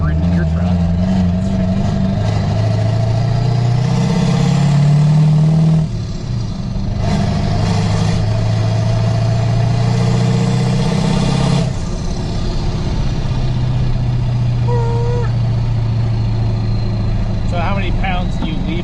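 An LB7 Duramax diesel truck with a ZF6 manual gearbox, tuned to 800 hp, revs in neutral with the clutch in, its heavy drone climbing and falling through two long pulls. Voices talk over the engine.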